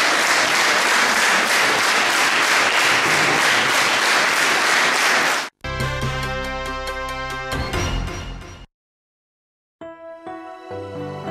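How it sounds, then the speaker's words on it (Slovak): Theatre audience in a sold-out hall gives sustained, dense applause that fills the first half, then cuts off abruptly; a short burst of music and tones follows after a gap. "na záver odmenili potleskom herecké výkony divadelníkov z Kysuckého Nového mesta"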